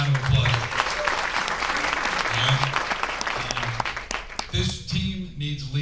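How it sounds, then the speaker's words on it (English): Audience applause for team members who stepped up, a steady, full round of clapping lasting several seconds, with a few voices mixed in toward the end. "Guys, give them a round of applause."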